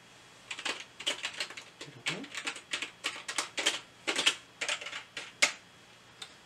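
Fingers type on a computer keyboard in a quiet room, giving close, crisp clicks in irregular bursts and short pauses with no talking.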